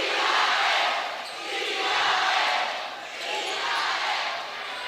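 Basketball crowd in Duenas Gymnasium during a National Basketball League Governors Cup game between Taguig City and Pampanga, a broad roar that swells and ebbs in waves, sustained and loud, with a basketball bouncing faintly underneath.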